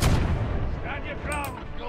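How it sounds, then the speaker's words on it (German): Ship cannons firing in the pirate video game Sea of Thieves, a loud booming blast at the start followed by rumbling echoes and faint voices in the background. "Kanonen."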